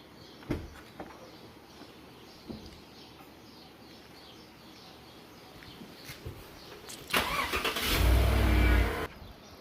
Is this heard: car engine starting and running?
yes